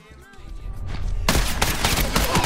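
Gunfire in The Last of Us Factions multiplayer video game: after a quiet start with talk, a dense, loud volley of rapid shots breaks out and keeps going.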